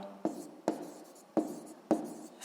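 Pen writing down the answer to a sixth-grade maths exercise on a product's price in hryvnias: four short, scratchy strokes at an even pace, close and fairly quiet, with no talking.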